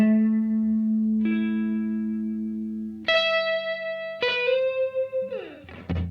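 An Epiphone Alex Lifeson Les Paul Standard Axcess electric guitar rings out through effects, sustained chords and notes struck one after another, the last ones bending and fading with tremolo-like wavering, loud and alone.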